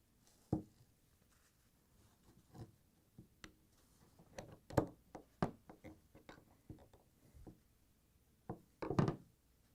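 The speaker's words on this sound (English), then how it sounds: "Using the flat blade screwdriver and the mallet, knock and pry out the old seal." Mallet blows on a flat-blade screwdriver pry out an old shaft seal on a Whirlpool, KitchenAid or Maytag washer, giving scattered sharp knocks and taps of varying strength, close and alone, with a cluster of harder hits near the end.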